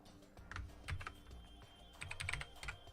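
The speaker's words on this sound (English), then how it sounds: "Hopefully you can enjoy these Dell keyboard sounds at least, like 90s mechanical Dell sounds." Keys clack on a 90s Dell AT102W mechanical keyboard, close and crisp, in two short quick bursts of typing separated by a brief pause.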